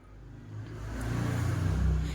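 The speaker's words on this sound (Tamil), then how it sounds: "இப்போ இது ரெண்டையும் சேர்த்துட்டு நல்லா பீட் பண்ணிக்கணும்." A hand mixer beats eggs and powdered sugar for homemade brownie batter, its motor making a steady droning whir that grows gradually louder, with no voices.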